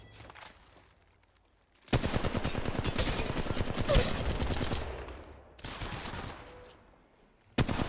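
Automatic gunfire in Apex Legends Mobile, a loud sustained burst of rapid shots after a quiet opening, then a pause and another burst starting again at the very end.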